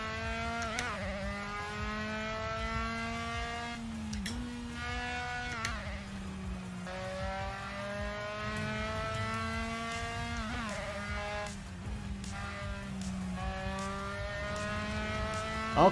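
A Dallara F3/17 open-wheel race car engine screams around Monza in Assetto Corsa, its whine climbing through the gears with sharp dips at each upshift, then falling and rising again under braking and acceleration, steady and close.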